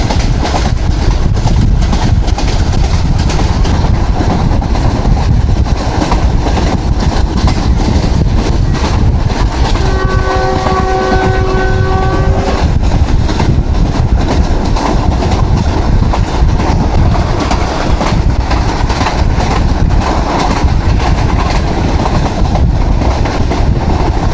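A train running through Haria railway station on the way to Khewra, a steady loud rumble with rail clatter and wind buffeting throughout, and a brief tonal squeal or horn-like whine partway through.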